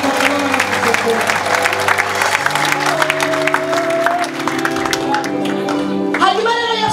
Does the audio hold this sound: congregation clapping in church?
yes